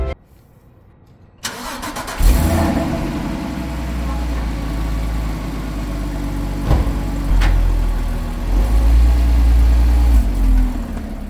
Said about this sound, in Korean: 딥스틱이 없어서 시동을 존나 오래 켜놔야 됩니다